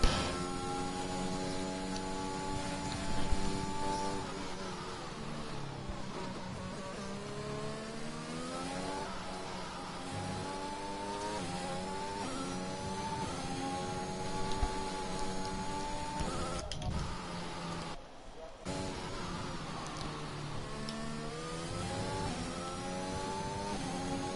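Race car engine in a sim racing game on an out lap, a steady sustained drone with rising and falling harmonics as it shifts through gears, loud and continuous with a brief dip near the end.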